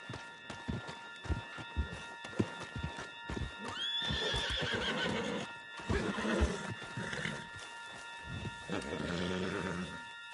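In the video game Red Dead Redemption, a horse whinnies loudly amid busy hoofbeats and snorting, with rough, rumbling movement and clatter throughout, close and energetic.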